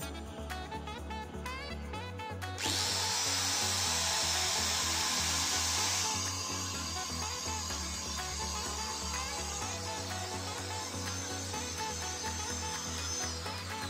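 A Hasston ART3150-001 angle grinder runs steadily at high speed during a vibration test, a close, continuous whine with a brief louder surge early on, no talking over it.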